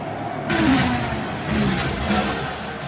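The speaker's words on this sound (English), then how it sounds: "Massive engines. Lightning fast." Racing engine in a video game trailer from Fuse Games, revving up loudly in two or three surging pulses, close and dominant with no talking.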